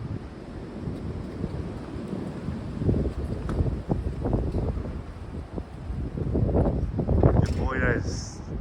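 Strong, gusty wind after rain, with gusts near 40 mph, roars and buffets the microphone in surging broadband waves that rise and fall over several seconds, growing loudest toward the end.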